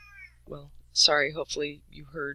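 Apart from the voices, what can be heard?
cat meowing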